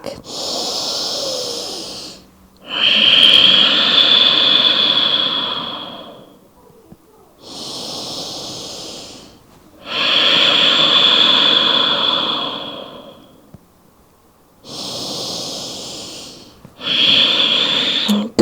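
Deep breaths in a yoga child's pose come as loud, close, slow cycles of long airy inhales and exhales, each several seconds long with short quiet gaps between them.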